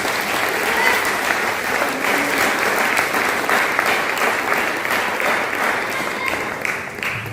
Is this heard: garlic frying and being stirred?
no